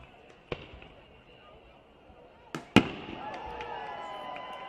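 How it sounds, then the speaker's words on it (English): Fireworks go off unexpectedly over right field during a baseball game: a few scattered distant pops, then a sharp loud bang followed by crackling and a lingering rumble, with faint crowd ambience. "Random fireworks shoot off from right field just out of the blue"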